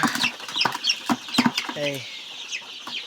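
Young 13-day-old Sonali chicks cluck and cheep in a rapid, close series of short calls, with a voice briefly heard among them.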